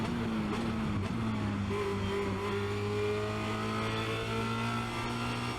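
A Formula Renault 2.0 race car accelerates hard at Spa-Francorchamps, its engine a steady, loud, continuous drone that climbs slowly in pitch, heard close from the cockpit with no talk.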